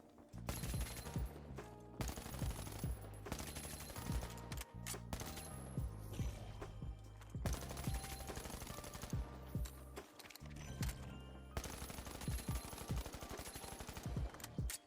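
Sustained automatic weapon fire in THE FINALS, loud, dense bursts of rapid shots running almost continuously with a few short breaks between sprays.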